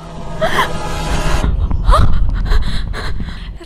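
A monster in a horror video game breathes in heavy, ragged pants and gasps, loud and close, rising and falling in several harsh bursts.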